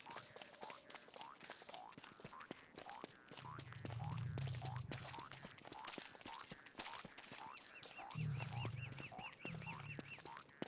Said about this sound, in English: Oh, that was just a frog.